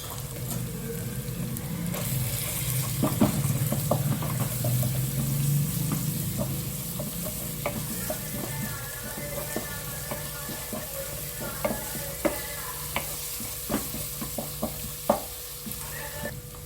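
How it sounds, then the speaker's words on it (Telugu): Onions fry with ginger-garlic paste and turmeric in a pan, a steady low sizzle under occasional stirring clinks and scrapes, with faint water-like sounds near the start. "ఉల్లిపాయలు కొద్దిగా వేగగానే అల్లం వెల్లుల్లి పేస్ట్ వేయండి. సరిపడా పసుపు వేయండి."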